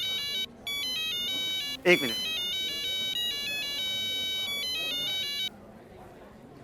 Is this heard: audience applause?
no